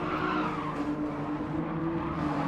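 A race car in a racing video game at Fuji loses its rear end and skids, its tires squealing over a steady, loud engine drone that runs unbroken throughout.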